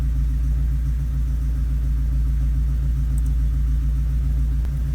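A Subaru EA82T turbo engine running on Megasquirt MS3x management holds a steady, close, deep idle rumble for the whole stretch, with no clear rev flare or drop and no voices.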